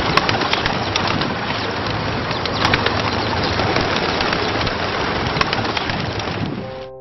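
Birds being fed with hot dogs in Los Angeles, including seagulls, with dense continuous flapping, cooing and chatter from many birds close by, loud and steady throughout with no talk.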